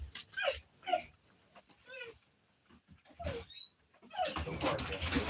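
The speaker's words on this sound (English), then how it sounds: "I'm going to let my dogs out so they'll go bark at them." Dogs bark, yip and whimper outdoors at night in several short bursts, close and fairly loud, with a livelier stretch of overlapping barking near the end.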